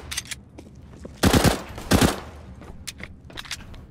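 Gunfire in the video game CS:GO: two loud, sharp shot bursts in quick succession near the middle, with faint clicks and footsteps of gameplay around them and no talking.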